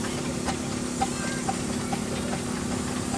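Half-size 6-inch Garrett steam tractor running at a steam and vintage show, a soft steady hiss and hum with regular faint chuffs roughly every half second, moderately distant.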